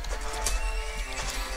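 In a video game, a horse whinnies loudly over a busy background of clattering game sounds and low rumble, a brief shrill neigh rising above the mix.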